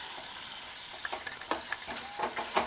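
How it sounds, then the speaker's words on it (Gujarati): Chopped tomatoes and peanuts being stirred into frying potatoes for poha bateta, with a steady hiss of sizzling oil and intermittent spoon scrapes and clicks nearby. No one speaks. "ટમેટા નાખીને આપણે નાખી દેવી આ સિંગના દાણા"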